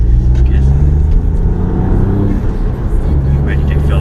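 Ford Fiesta ST MK8 fitted with an induction kit accelerating hard, a loud steady engine drone rising and falling through gear changes, close and continuous, with a brief dip around the shift.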